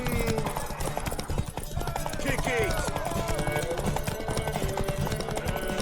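A horse gallops in a race in The Witcher 3, its rapid clip-clopping hoofbeats running steadily under a loud, busy mix of music and shouting voices.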